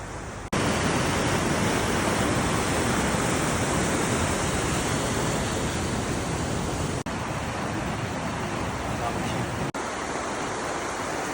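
Waterfalls in a snowy landscape near Gérardmer produce a loud, steady roar of rushing water that fills the whole scene almost without a break, with no talking audible over it.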